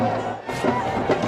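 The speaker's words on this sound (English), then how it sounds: "Well, the crowd are happy." A crowd at a cricket stadium during an India versus New Zealand match gives a steady, distant roar of cheering and chatter, with a commentator talking over it.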